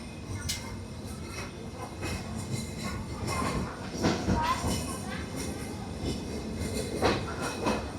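The Rupsha Express pulls away from Nilphamari railway station with a continuous rumble and irregular clanks and clatter from the carriages, heard from on board.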